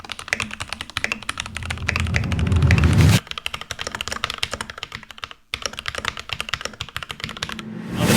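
Keychron K8 Pro mechanical keyboard being typed on, a rapid clatter of crisp key clicks with one brief burst of heavier thumping, close and alone, pausing briefly before resuming.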